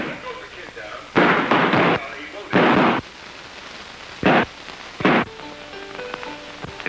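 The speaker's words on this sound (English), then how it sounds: "And shooting." Gunfire rings out in a staged shootout at a mountaintop ghost town, with four loud, sharp bursts spaced apart and someone narrating in the pauses between them.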